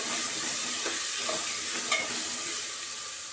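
Turmeric being stirred into rice khichdi in a pan, a steady soft sizzle with scraping spoon strokes close by, continuous and without talk.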